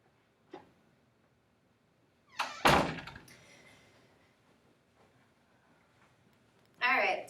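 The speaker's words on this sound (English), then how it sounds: "give me a sec to close the door here" A door being closed indoors, a single solid thunk with a brief rattle, preceded by a small tap and followed by a faint room tail, with a person talking around it.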